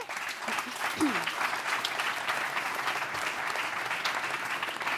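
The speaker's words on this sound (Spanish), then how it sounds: "Un aplauso para él, por favor." Steady audience applause at a sports forum panel event in the Basque Country, continuous close clapping for five seconds with a brief voice underneath near the start.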